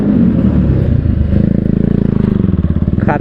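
Yamaha R15 V3 motorcycle engine rumbles loudly inside a tunnel, a deep echoing drone that settles into a rapid pulsing idle throb, close and continuous.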